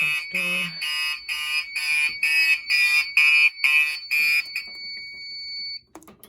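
A fire alarm sounds after its pull station is opened, giving loud, steady pulsing electronic tones in an even rhythm for about four and a half seconds before it stops, with a faint voice briefly heard.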